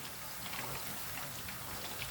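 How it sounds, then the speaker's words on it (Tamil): Rain falling in Chennai, heard as a steady, even wash of soft pattering hiss that holds at one low level throughout, with no voices. "சென்னையில் நல்ல மழை பெய்யுது"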